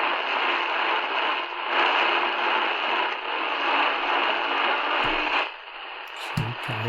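A Tecsun PL-200 shortwave radio picks up daytime AM stations through a loop antenna, giving a steady wash of hiss and static with faint programme underneath, then a shift in tone and brief tuning noises near the end.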